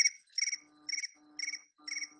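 A phone ringtone mimics cricket chirps, with four or five evenly spaced bursts of high, trilled chirping, clear and close against silence.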